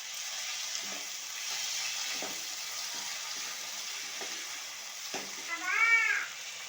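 Chopped tomato and slit green chilli with a little salt frying in a pan, giving a steady soft sizzle throughout, with faint stirring scrapes and a brief cat-like meow near the end.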